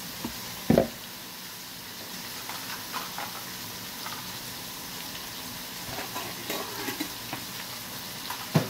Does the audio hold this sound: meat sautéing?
yes